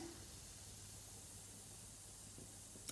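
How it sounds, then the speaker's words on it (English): Baking soda and vinegar fizz quietly in a homemade rainbow fish craft, a soft, steady hiss of tiny bubbles held close, faint and unbroken with no talk over it. "All fizzing around."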